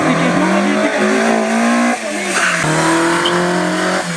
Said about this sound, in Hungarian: A karburátorok hívó hangját hallhatjuk